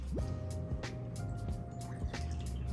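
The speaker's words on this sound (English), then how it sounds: "you can add a third a cup of bleach." Bleach trickles and drips into hot water in a spin mop bucket, soft close splashes and dribbles in a quiet room.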